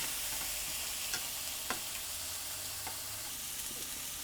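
Onions sautéing in a pot with pepper and salt for a beef stroganoff, a soft, quiet sizzle with a few faint taps and scrapes of a spoon.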